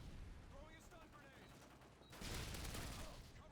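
In a Modern Warfare 2 match, a loud, dense burst of gunfire erupts partway through and keeps going. Before it, quieter game sounds play under a voice that talks over the action.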